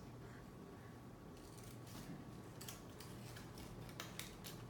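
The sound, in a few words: cutting with scissors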